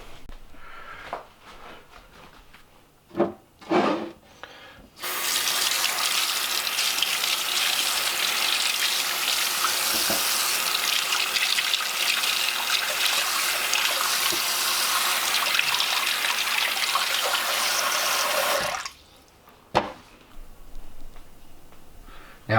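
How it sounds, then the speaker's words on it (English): Water running from a kitchen tap while lemons are washed, a steady, loud gushing stream lasting about fourteen seconds, framed by brief handling bumps before and after. "first we're gonna wash them"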